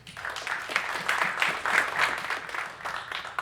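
A modest round of applause from an audience at an AI cloud conference talk, steady clapping swelling and fading over a few seconds, fairly distant and soft with no speech over it.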